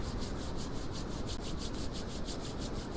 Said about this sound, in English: I want you to rub your hands vigorously.